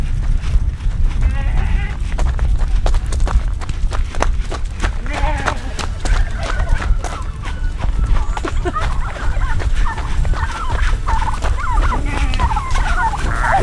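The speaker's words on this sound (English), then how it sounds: "The turkeys decided they're coming too." Farm turkeys gobble repeatedly amid a moving flock with sheep, with a loud outdoor bustle, rustling and footsteps, while a person talks over the sounds.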